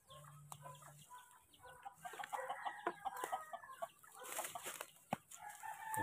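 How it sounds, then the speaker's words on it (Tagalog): Wild chickens on a farm clucking and crowing, several birds calling in overlapping bursts at close to moderate distance, with a rooster's crow among the clucks and no talk. "Mga wild yung mga manok dito"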